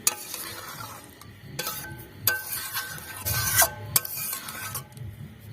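Spiced chicken sizzles and fries in a pan as water goes in, with scraping stirs and sharp bursts of spitting hiss rising and falling over a steady crackle, close and fairly quiet.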